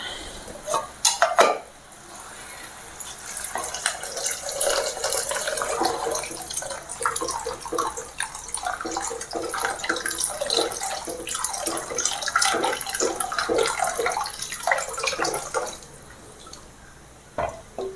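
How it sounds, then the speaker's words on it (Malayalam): Water splashes and trickles into a pot for Kottayam-style fish curry, with clinks of metal cookware, a steady pouring sound between sharper knocks. "നമുക്കിതിനകത്തോട്ട് അതൊക്കെ വെള്ളം ഒഴിച്ചു കൊടുക്കാം."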